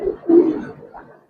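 Giribaz Silver Road Master pigeon cooing close by, a few soft low throaty coos over about a second with no talking.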